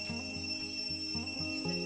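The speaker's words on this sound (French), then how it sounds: "C'est le bruit de cigale." Cicadas call in Cambodia, a faint, steady high-pitched buzzing drone with a thin tonal whine running continuously, accompanied by a low pulsing hum in the background and no voices.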